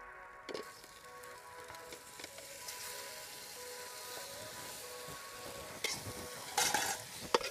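Chicken added to a pan of well-sautéed masala for spicy Pallipalayam chicken, a quiet continuous frying sizzle broken by occasional spoon scrapes and a louder burst of stirring near the end.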